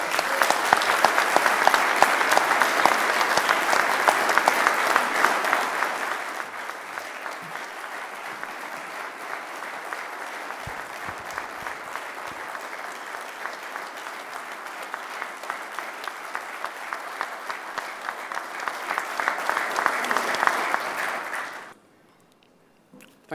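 A friendly crowd at a Hyde Park justice campaign rally claps steadily for over twenty seconds, loud at first, then settling into a sustained, even ovation before swelling briefly and stopping abruptly.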